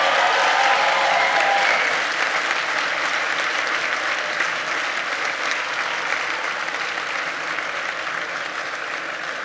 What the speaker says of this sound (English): Go ahead and give them another round of applause.